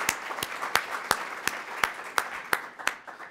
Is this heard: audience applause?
yes